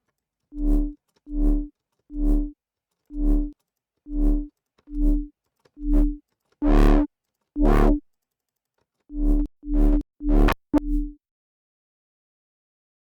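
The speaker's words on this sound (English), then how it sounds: "Let's give it a little bit of noise." Short synthesizer notes with added noise and tube drive distortion, played one at a time in a steady pulse, about a dozen bright buzzy hits with a few louder accents, then a sudden stop.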